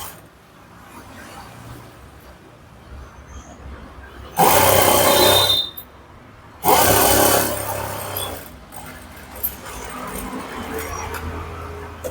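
A sewing machine stitches the seam of a puff sleeve in two loud, steady bursts, each lasting a second or two, with quieter room noise between them.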